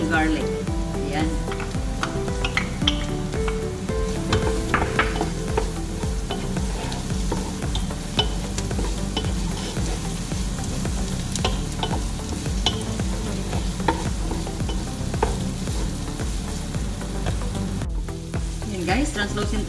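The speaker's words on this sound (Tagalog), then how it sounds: "Nagiging translucent na yung ating onion. So, ilalagay na natin yung ating garlic." Onion and garlic sizzle loudly and steadily in a pan, close up, with frequent scraping and stirring strokes breaking up the continuous frying hiss, a base for an Arabic-style lamb stew.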